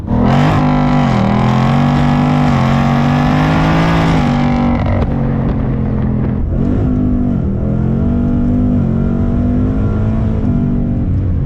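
A Ford Mustang RTR Spec 5 roars loudly close by as it accelerates hard, engine pitch climbing through gears, a brief drop and shift in tone midway, then another strong pull.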